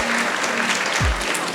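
Audience applause at a convention talk, steady broadband clapping filling the short stretch at moderate level, with a brief low thump near the middle.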